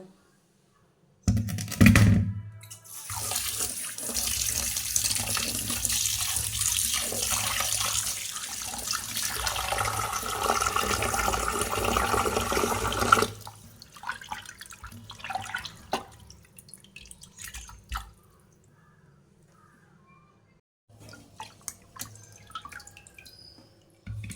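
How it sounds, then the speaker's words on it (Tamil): Fish is rinsed by hand in running water from a tap in a home kitchen, a loud splashing gush that stops suddenly, followed by quieter drips and small handling sounds. "மீனை அலசிக்கலாங்க."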